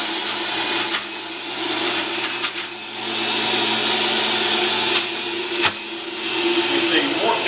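A Breville 800JEXL Juice Fountain Elite juicer grinds kale with a steady, loud motor whine and rough shredding texture, with a few brief thumps as leaves are pushed down into the chute.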